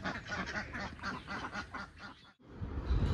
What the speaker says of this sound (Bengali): আর হাঁসগুলো এত চেঁচায়